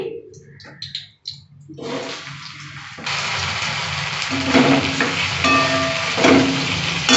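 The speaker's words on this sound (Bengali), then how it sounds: "বাকি ঢেঁড়সটা আমি ওইভাবে ভেজে নিচ্ছি।" Okra frying in oil, opening with a few brief clatters and pauses before a loud, steady sizzle takes over and continues to the end.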